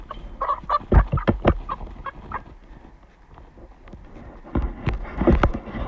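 Backyard hens clucking as they are gathered and put away in the coop at night, several short close clucks and squawks in bursts with a quieter pause in between.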